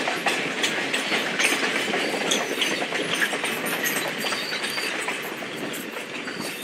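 Local passenger train clacking along through Sri Lankan tropical lowlands, a continuous rumbling ride with rhythmic clickety-clack of wheels on rail joints and occasional faint squeals, heard steadily from on board.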